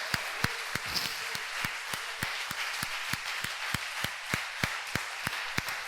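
A church congregation claps together in steady rhythmic unison, sharp beats repeating about three times per second over a dense wash of applause and faint voices.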